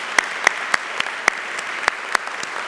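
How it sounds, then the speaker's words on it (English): An audience at a university honors convocation applauds the college's faculty and staff, steady close clapping with a few sharp individual claps standing out above the dense wash. "Let's give them all a round of applause for the work that they do."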